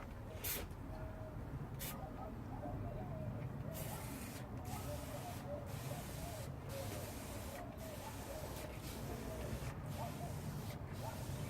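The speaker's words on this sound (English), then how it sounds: "I like to use an industrial sprayer and spray it on." An industrial sprayer hisses in short repeated bursts, applying lining to a forge, quiet and somewhat distant, over a steady low background rumble.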